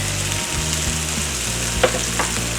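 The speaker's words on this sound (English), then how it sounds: "frying up these veggies" Vegetables sizzle and crackle steadily in a hot pan, close by, with a few sharper pops standing out from the constant fry.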